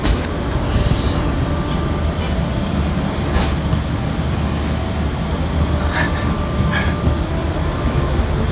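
A Norwegian train rumbling along the tracks, heard from inside, steady low roar with faint rhythmic clacks and squeals, continuous throughout, no one speaking.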